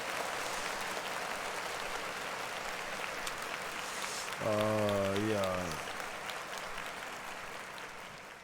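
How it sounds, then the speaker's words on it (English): Audience applause in a crowd, a steady broad patter that runs throughout, with a short spoken voice rising over it midway. "But clap it up for Currency one more time."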